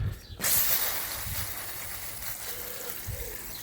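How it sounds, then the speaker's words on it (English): Fresh water poured to fill small containers in a critter habitat with layers and a rock, a steady close trickle and hiss running throughout with no talk. "so I'll fill those up with some nice fresh water"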